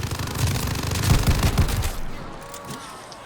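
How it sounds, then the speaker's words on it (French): A minigun fires a sustained rapid burst in the video game Terra Maledicta, loud and dense for about two seconds before cutting off into quieter game ambience. "je le déteste avec sa minigun"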